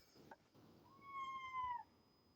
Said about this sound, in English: And there's a cat in here.